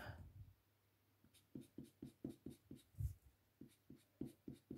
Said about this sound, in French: Je vais colorier une sur deux